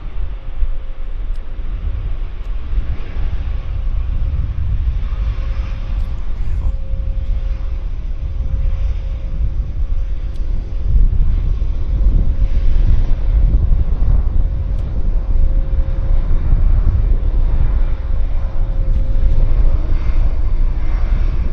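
A Lufthansa Boeing 747-400 lands at Vancouver Airport, its jet engines giving a loud, sustained low roar with a faint steady whine. Wind buffets the microphone throughout.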